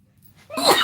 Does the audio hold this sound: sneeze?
yes